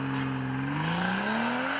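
BMW M340i saloon accelerating hard from a standstill on a cold, slippery road, with a loud, steady engine note climbing in pitch as it pulls through the revs, no talk over it.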